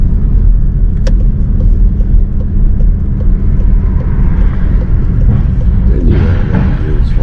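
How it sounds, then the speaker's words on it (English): A car pulls up and parks at the curb during a driving lesson: a steady, loud interior engine rumble and road noise that continue throughout, with no one speaking. "please pull up for me in a safe place on the left."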